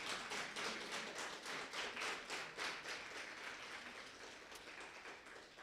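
A church congregation claps in praise, a rhythmic, fairly loud burst of many hands beating together in a regular pulse that gradually eases off toward the end.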